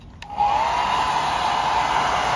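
A small hair dryer powered by a 1500 W pure sine wave inverter switches on with a click and runs steadily with a loud, constant whooshing hum and a high whine.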